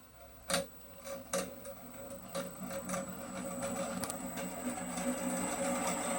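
A 2M112 drill press powered on 220V through a frequency converter gives a few sharp clicks, then its motor settles into a steady, quiet whine that gradually grows slightly louder.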